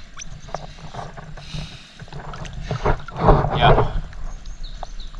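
A Vietnamese wooden fishing boat starts up on the water with a rough, rising mechanical rumble that swells to a louder peak midway and then eases slightly, heard fairly close.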